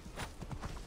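Horse hooves in the Assassin's Creed Origins video game, a quick run of several clip-clop footfalls close by, heard on their own over a dense background wash.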